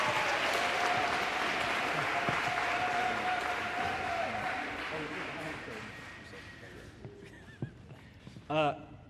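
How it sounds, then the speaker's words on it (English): Dense applause from a crowd at an elementary school D.A.R.E. graduation fills the space, gradually tapering off, with a few voices and a brief shout near the end. "If everybody could just give him one more round of applause, please."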